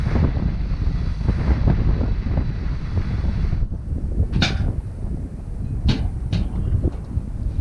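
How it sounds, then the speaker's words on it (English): Steady, buffeting wind roars across the microphone on a boat dock, with rumbling gusts and a few sharp rattling knocks over the continuous blustery noise. "It's gusty in here"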